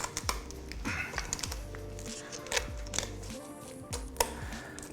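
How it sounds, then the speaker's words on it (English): Bones crackle and snap as a Thanksgiving turkey is carved, a close series of irregular sharp cracks and clicks with a low rumble underneath and no talk. "those are bones crackling"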